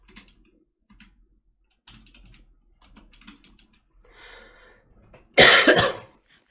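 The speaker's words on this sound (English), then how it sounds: "I just coughed up phlegm." A sudden loud phlegmy cough near the end, preceded by quiet keyboard typing and clicking at a computer.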